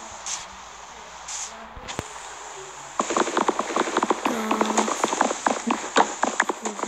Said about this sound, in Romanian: Oh my god, a început ploaia